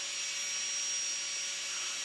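A Marathon micro motor spins a diamond burr in a steady, high-pitched whine that stays constant and fairly quiet for the full stretch, with no voices.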